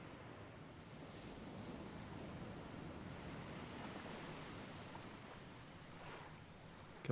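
Ocean waves wash continuously in the survival game Stranded Deep, a soft, steady surf mixed with wind, heard alone and faint throughout.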